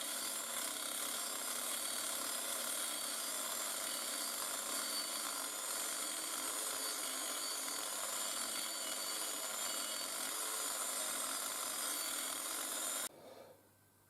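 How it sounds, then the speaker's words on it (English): A Dremel fitted with a sanding wheel or sanding belt bit grinds steadily inside the slots of a polished alloy slot-mag wheel, giving a continuous high, raspy whir without pause until it stops near the end. "I clean them all out using a Dremel, and I use the standard sanding wheel or sanding belt bits for the Dremel"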